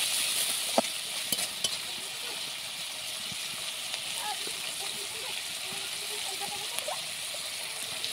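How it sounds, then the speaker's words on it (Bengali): Tomatoes and green chillies frying in a pan, mixed with soft scraping strokes over a low, steady sizzle and occasional clicks. "এবার এটাকে সুন্দরভাবে মিক্স করে একটু রান্না করে নেব।"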